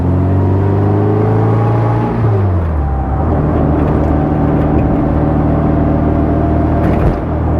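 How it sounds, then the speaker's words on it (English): A 1960 Bugeye with a 1275 engine pulling away in first gear, its steady exhaust drone carrying a rising gearbox whine and light clatter beneath, loud and close. The pitch climbs, drops at a shift, then holds level. "you should be able to hear that little bit of whine and clatter in first gear"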